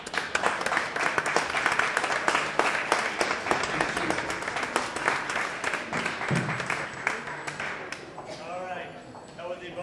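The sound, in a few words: audience applause after poetry reading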